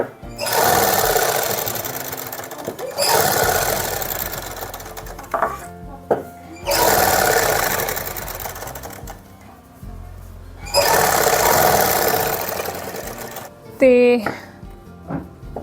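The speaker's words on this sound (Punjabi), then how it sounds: "ਐਦਾਂ ਸਲਾਈ ਲਾਉਣੀ ਸਟਾਰਟ ਕਰ ਦੇਣੀ ਆਪਾਂ ਨੇ ਤੇ ਐਦਾਂ ਨਾਲ ਨਾਲ ਸਲਾਈ ਲਾਉਣੀ ਹੈ" Sewing machine stitching along the neckline of a women's suit, running in four long loud bursts separated by short pauses with small clicks and handling noises between them.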